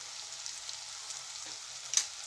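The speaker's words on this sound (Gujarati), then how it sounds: "હવે એને આપણે 1 મિનિટ મસાલાને સાંતળી લઈશું।" Masala spices (red chilli powder, coriander powder, turmeric, salt and jaggery) sautéing in a pan for Kathiawadi sev tameta shaak, a soft, steady high sizzle with faint stirring ticks and one brief louder scrape near the end.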